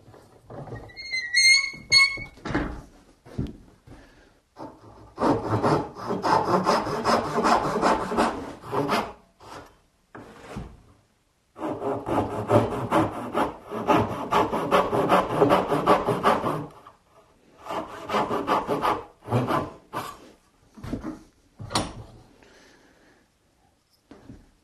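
Hand saw cutting wood for a dovetail joint, two long runs of rhythmic back-and-forth rasping strokes, close and clear, with a few shorter strokes at the start and end.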